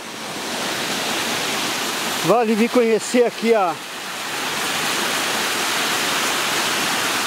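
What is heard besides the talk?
hidden waterfall in Jacutinga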